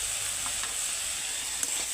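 Chikni leaf curry with turmeric and mustard paste in a pan in a village kitchen, being lightly stirred over a steady quiet sizzle, with a few soft scrapes and one sharp clink.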